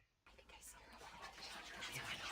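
Whispering from the video game What Remains of Edith Finch comes in as a faint, breathy, hissing murmur that swells gradually over soft background ambience.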